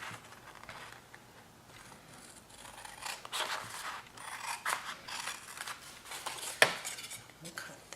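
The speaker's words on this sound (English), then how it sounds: "Let's cut these two sections. We're going to cut that off." Scissors cutting through scored cardboard for a votive candle gift box, a close, continuous crunching snip with repeated blade strokes and a sharp click near the end, no talking.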